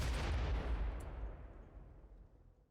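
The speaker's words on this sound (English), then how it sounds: "Frag grenade." Frag grenade exploding in the RimWorld video game, a single deep booming blast up close that rumbles and fades away over a couple of seconds, with no voices.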